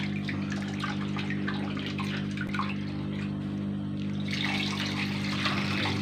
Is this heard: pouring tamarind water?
yes